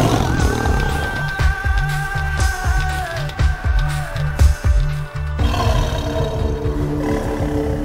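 A tiger relocated to the forests of Sariska roars and growls loudly and continuously, with deep rumbling pulses under steady musical or ambient sound that shifts near the end.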